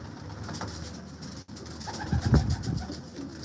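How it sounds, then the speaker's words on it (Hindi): Tausi pigeons coo softly at a breeder's loft, a few low rounded calls rising near the end over faint background noise, with no voices. "ये तौसी कबूतर आपको दिखाया जा रहा है।"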